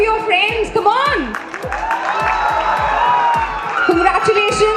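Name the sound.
audience applauding graduating students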